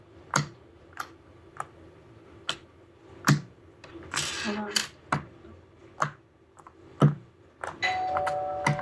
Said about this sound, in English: you want to hear the popping?